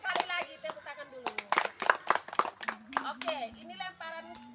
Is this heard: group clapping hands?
yes